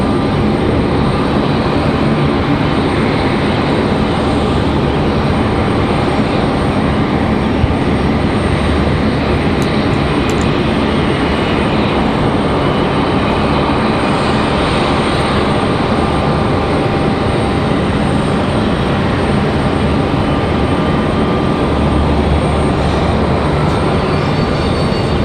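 A military C-130 turboprop moves on the ground at Raleigh-Durham International Airport, giving off a steady, dense engine drone that stays at an even loudness throughout, with no voices.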